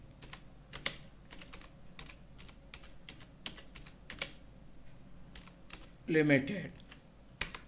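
Crisp computer-keyboard keystrokes while entering a party name in Tally accounting software, irregular bursts of clicks at close range with a brief spoken word partway through.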